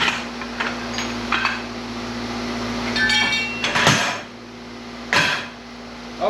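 An air chisel works over scrap metal being cleaned for salvage, giving sharp clinking, rattling metallic bursts in uneven spurts with short pauses between them, loud and close.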